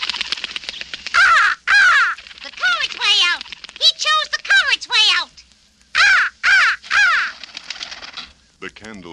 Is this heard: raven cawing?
yes